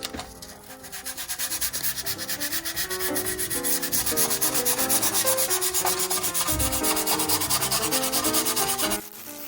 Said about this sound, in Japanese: 最初は400番のペーパーでヤスリがけを行っていきましょう。